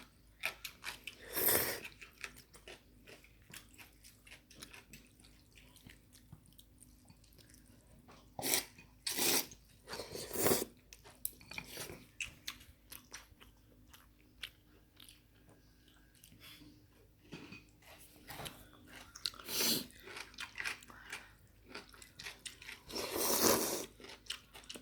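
Someone chewing while eating noodles, soft intermittent mouth sounds with a few louder bursts spaced apart, against an otherwise quiet background.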